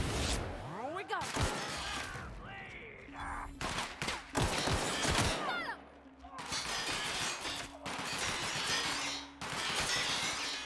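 Gunfire and impact crashes from a firefight in The Outer Worlds, loud bursts with glassy shattering scattered over about ten seconds, with a voice talking in between.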